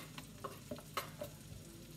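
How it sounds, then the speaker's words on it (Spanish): Chopped onion fries in a pan with chopped sausage for vegetable spaghetti. A faint, soft sizzle runs under a few light taps and scrapes of stirring, close by and quiet. "le vamos a poner la cebolla para que le vaya dando el gusto"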